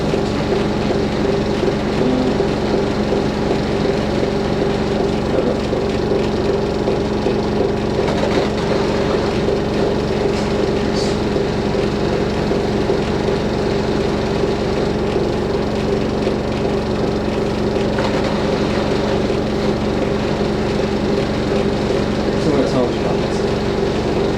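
A Fisher & Paykel WD8060P1 washer dryer hums steadily on a cottons 90ºC cycle with high heat drying, a constant low mechanical drone with faint tonal whine, while a person talks over it.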